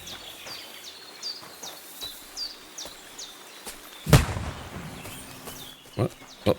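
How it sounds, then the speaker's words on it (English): A single loud gunshot in the medieval game Kingdom Come Deliverance 2, cracking out about two-thirds of the way through over a forest ambience of chirping birds, followed by a fainter sharp report near the end. "That sounded like a gunshot."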